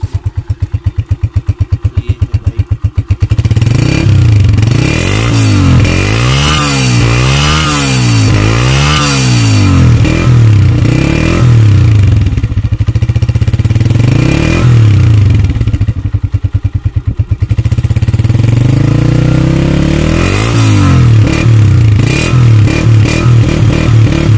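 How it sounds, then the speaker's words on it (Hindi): A 2020 Honda CG 125 motorcycle engine cranks and catches, then runs loudly and steadily, its pitch rising and falling with repeated revs before settling into a rough idle. "हम इसको अब स्टार्ट करके इसका साउंड भी सुना देते हैं"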